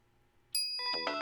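A bright, clear phone-message ding from the Steins Gate video game, a single ringing chime that sustains after a sudden onset, alone and fairly quiet.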